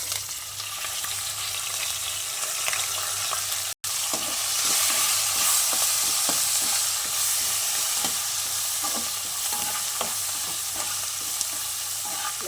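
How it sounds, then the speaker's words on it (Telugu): Curry leaves and green chillies frying in hot oil for mango pulihora, a constant close sizzle and crackle with occasional stirring scrapes, no talking. "ఈ పచ్చిమిర్చి మంచిగా వేగాలండి"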